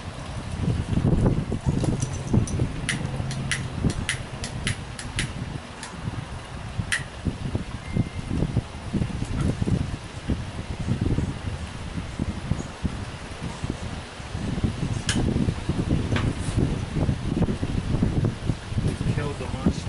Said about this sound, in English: It is a little windy out here